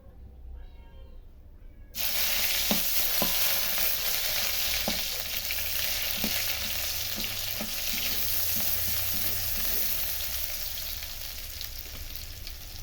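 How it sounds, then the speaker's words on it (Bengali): Onions with chili frying in a pan, a loud steady sizzle that starts abruptly as they hit the hot oil, with occasional stirring clicks, no talking. "ঝাল পেঁয়াজ সুন্দর করে ভেজে নেব।"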